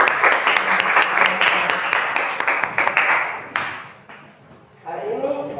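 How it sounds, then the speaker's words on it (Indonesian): A classroom presentation group claps together for about three and a half seconds, dense and close. The clapping then fades to quiet, and a voice begins speaking. "Tepuk tangan."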